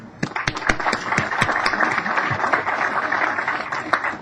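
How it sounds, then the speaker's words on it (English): A round of applause from an outdoor crowd at a highway 213 jughandle groundbreaking ceremony, a steady patter of many hands clapping together for the whole stretch. "Staff Paul Ieringer and Rob Smoot deserve a special round of applause"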